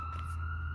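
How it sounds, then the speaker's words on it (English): An emergency vehicle siren holds a steady wailing tone over low rumbling background noise, distant and brief. "siren coming"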